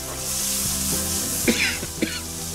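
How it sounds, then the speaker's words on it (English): Onions, garlic and chilies sizzle steadily in a pan with brisket juices, a constant close frying hiss with a couple of brief sharper pops or clatters partway through. "Add all of this to the pan with the brisket juices."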